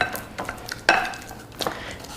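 A spoon clinks and scrapes against a bowl while stirring mashed banana into cream cheese, with a few irregular taps and one sharper metallic knock, close and fairly loud, no voices.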